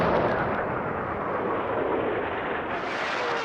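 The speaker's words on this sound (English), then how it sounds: "The Allied bombardment opens up." Allied artillery bombardment on the Normandy coast at dawn in June 1944, a dense continuous roar of heavy guns and blasts, loud and unbroken throughout.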